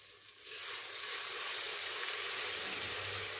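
Garlic-ginger paste hits hot oil with golden fried onions in a pot on low heat, bursting into a steady, bright sizzle that quickly swells and stays loud and close, with no talking.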